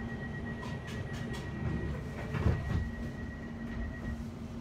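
A passenger train rides between Edmonton Green and Rye House, a steady low rumble and hum of the carriage with faint rhythmic clicks of wheels over rail joints, heard from inside.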